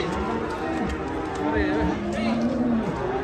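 A huge cow being unloaded from a truck gives drawn-out lowing moos amid a crowd, with people talking and calling out nearby.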